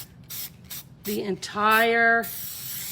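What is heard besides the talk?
gold Krylon spray paint being sprayed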